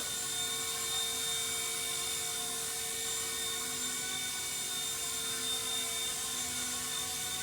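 Steady whine and rotor buzz of a repaired MD500 model helicopter hovering inside a hangar, loud and continuous with a constant high tone throughout.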